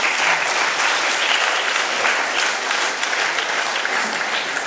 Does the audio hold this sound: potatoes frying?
no